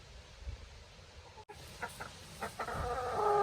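Chickens cluck softly and intermittently nearby, with a brief click midway and rising background noise toward the end.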